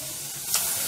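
Milk poured into a hot roux for béchamel sauce, giving a brief burst of bright sizzle that swells halfway through and holds steady, close and fairly soft, with no talking.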